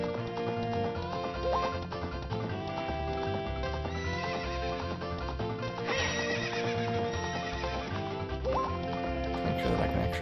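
Epona the horse in Zelda: Ocarina of Time, with steady galloping clip-clop hoofbeats and occasional neighs over continuous game music, loud and close, with a brief voice faintly under it.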